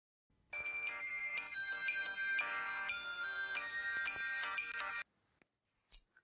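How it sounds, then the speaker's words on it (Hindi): A telephone ringback tone on an outgoing call, repeating electronic ringing pulses for about four and a half seconds, close and clear, followed by a brief click as the line connects. "बेल जा रही है।"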